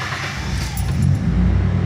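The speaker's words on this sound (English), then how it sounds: "the car should start up just like regular" A car fitted with a 123 ignition electronic distributor cranks and fires up, its low engine rumble building into a steady idle that fills the short moment.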